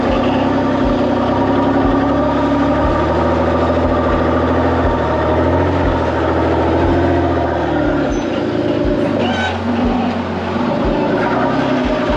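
A four-seat rock crawler buggy idles on sandstone trails in Sand Hollow, a steady low engine rumble with a regular thumping pulse, close and loud throughout, with no talking.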